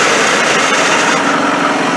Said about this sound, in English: Go ahead and just let the engine idle